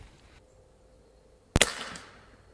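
Seneca Dragonfly MK2 .177 pneumatic pump air rifle pumped 15 times firing one sharp, loud crack outdoors after quiet, followed by a brief fading echo.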